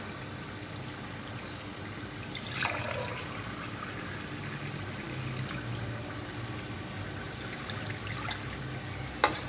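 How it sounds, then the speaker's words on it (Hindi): Water pouring and splashing into a pot of rice for chicken pulao in a steady stream, fairly quiet, with a couple of small clinks. "अब इससे हम पानी डालते हैं।"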